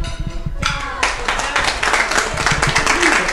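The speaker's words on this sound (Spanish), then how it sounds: "Un aplauso." Applause breaks out after a brief lull, many hands clapping steadily and fairly loudly near Puñihuil on Chiloé, with low rumble beneath and a few isolated claps before the main burst.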